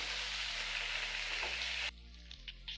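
Potatoes and pointed gourd frying in oil in a pan, a loud, dense continuous sizzle that drops abruptly to a quieter crackle near the end.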